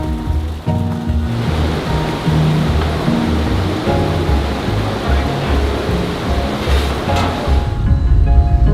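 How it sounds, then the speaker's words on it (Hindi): Rushing river water beside the Karakoram road in the mountains, a loud, continuous close roar with music playing underneath throughout. "ये ब्यूटीफुल पानी।"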